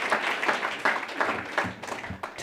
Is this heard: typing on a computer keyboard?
no